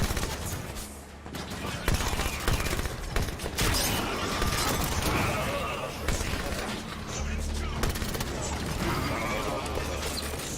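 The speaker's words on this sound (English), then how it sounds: "Turrets on and firing." Automatic turrets fire in Halo 5: Guardians, a dense, continuous clatter of gunfire and mechanical noise running throughout, with game effects layered underneath.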